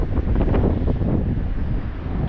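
Steady wind gusts outdoors buffet the microphone close up, making a continuous loud low rumble with no other sounds standing out.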